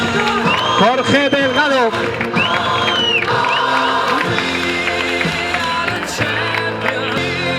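Crowd at a half marathon trophy ceremony in Zaragoza claps and cheers steadily throughout, with music playing and a voice speaking over the din.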